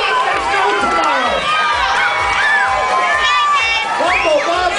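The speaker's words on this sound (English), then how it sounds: "I want you to cheer like there's no tomorrow." A crowd cheers and shouts loudly at the 2008 Niko Nikos World Gyro Eating Championship, a dense, sustained roar of whoops and high yells with excited voices mixed in throughout.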